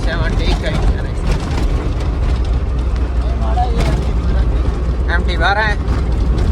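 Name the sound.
car engine running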